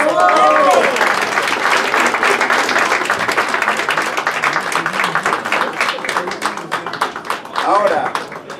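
An audience at an award ceremony honouring a visual artist breaks into loud, sustained applause, dense clapping filling the room while voices sound briefly at the start and near the end.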